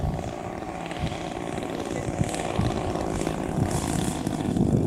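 A propeller airplane engine drones steadily and fairly close throughout, with small bumps and rattles, in a flight among warbirds and classic planes over Michigan.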